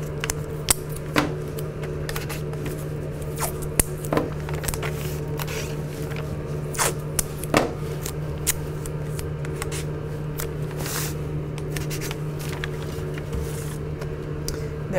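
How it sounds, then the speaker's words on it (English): Tape is torn and pressed down to hold freezer paper onto the back of a printing screen, giving scattered sharp crackles and taps over a steady low hum, with no talk. "And then I'm just gonna tape it in place."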